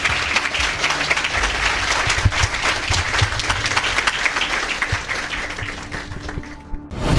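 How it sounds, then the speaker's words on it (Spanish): A church congregation claps hands in praise, a loud, sustained, dense patter of many hands that continues steadily and then tapers off at the end. "Vamos a alabar a Cristo con nuestras palmas"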